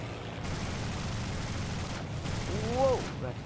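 Rapid bursts of gunfire rattle in the War Thunder video game, a dense continuous fusillade near and fairly loud, with a brief whistling tone near the end and no clear speech.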